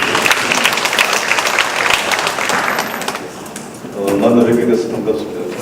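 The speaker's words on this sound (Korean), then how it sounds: "박수로 좀 드리겠습니다" Audience applause at an environmental capital forum in Changwon, a dense crackling of many hands for about four seconds, easing off as a voice begins speaking near the end.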